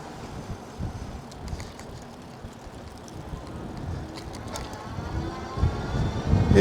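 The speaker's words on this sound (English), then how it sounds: "Now it is a super windy day here" Strong gusty wind buffets the microphone while riding a Luckeep X1 electric bike, a low blustery rumble that swells and builds toward the end.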